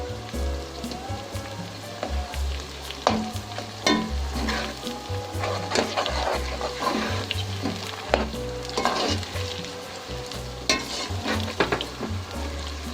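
Tomatoes fry for a chicken biryani in a pan, giving a steady, close sizzle broken by scraping, clattering stirs and a low rhythmic thump from the cooking, with no voice.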